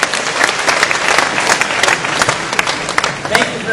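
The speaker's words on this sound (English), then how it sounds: "Give yourself a round of applause." Audience at a Vemma convention in Germany breaks into loud, sustained applause, dense clapping filling the whole stretch with a few sharper claps standing out.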